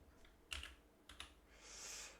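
A few quick keystrokes on a computer keyboard while typing Haskell code, two faint close clusters of clicks followed by a soft hiss, with no speech.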